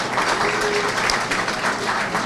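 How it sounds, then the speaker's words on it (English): Audience applause at a black-tie charity gala fills the room, a dense, steady clatter of many hands clapping close by, holding for a couple of seconds with a faint voice underneath. "Round of applause for everybody joining us on this beautiful new year"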